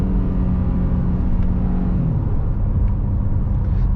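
Engine of a 2022 Honda Passport TrailSport revving hard as it crosses into VTEC, a loud, steady rumbling drone whose pitch holds and then drops near the midpoint, with no talk over it.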